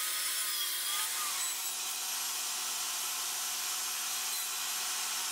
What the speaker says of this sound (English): I can then cut some scrap plywood for the sidewall of the mortise template.